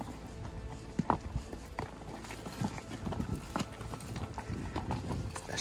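Horse hooves clip-clopping on the Pucker Ridge trail near Apache Junction, Arizona, a steady irregular clatter of several horses walking on rocky ground, close and moderately loud with no talk.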